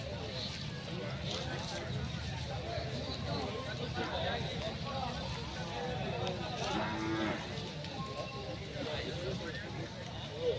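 Cows and calves low and moo at a busy Sunday cattle market, several calls rising over a steady crowd hum while people talk nearby throughout.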